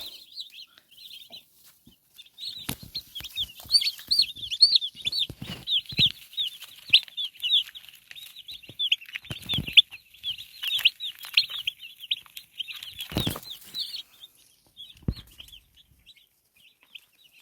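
Meat chickens cluck and chatter continuously at close range, with a few sharper thumps or flaps breaking through the busy, steady flock noise.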